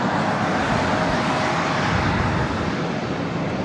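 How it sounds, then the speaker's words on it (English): An Airbus A380 airliner taking off at LAX airport, a steady loud broadband jet roar filling the whole stretch without pause or voices. "I don't know if you can catch the A380 takeoff."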